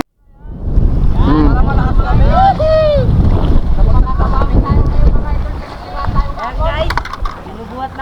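A boat engine drones steadily beside water and wind noise on the West Philippine Sea, with voices and harmonic whines rising over the running motor.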